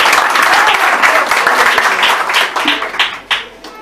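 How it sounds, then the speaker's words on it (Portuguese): A church congregation claps loudly and vigorously at a temple inauguration service, a dense burst of applause that thins out and tails off in scattered claps by the end. "Aplauda o Senhor bem forte no nome de Jesus."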